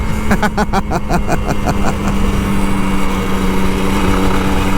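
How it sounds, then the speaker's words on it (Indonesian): An older Kawasaki Ninja RR 150 two-stroke sport motorcycle engine revs loudly up close in quick, rhythmic, tinny bursts, then settles into a steady, buzzing drone. "bisa ngegas pagi-pagi dengan suara cemprengnya"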